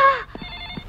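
A telephone rings in a Telugu film scene, a short electronic ring tone that fades quickly and is followed by faint room sound.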